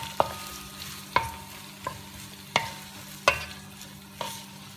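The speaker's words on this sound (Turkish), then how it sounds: "Şu soğanlarımı kavuruyorum." Sliced onions fry in hot oil in a sac tava pan, with a steady low sizzle broken by about six sharp stirring scrapes spaced roughly a second apart.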